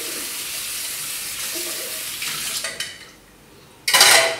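Dishes are washed Asian-style under running water in a sink, with a steady tap hiss, clinks of plates and cutlery, a short pause, then a louder gush of water.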